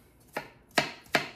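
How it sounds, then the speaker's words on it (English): Knife chopping onion on a cutting board, three sharp separate chops spaced evenly, close and clear with no talk. "I don't feel like being here chopping up a bunch of onion"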